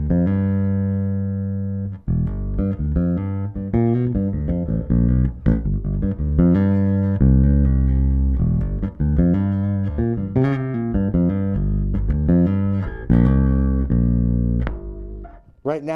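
Electric guitar played through a blend of neck and bridge pickups, roughly three quarters neck and one quarter bridge, picking a busy run of clear single notes and chords with a short pause near the start.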